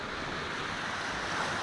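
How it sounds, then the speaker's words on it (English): Water rushing steadily through a paddle wheel channel and into a large drain at The Paddle Wheel in Windsor, a continuous close, loud wash with no talk. "the water comes up here and flows through the little box there, and the paddle wheel gets pushed"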